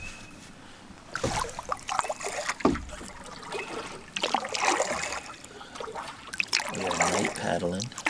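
A canoe is paddled across a dark winter lake, with irregular water swishes and splashes close by. Someone talks in between the strokes.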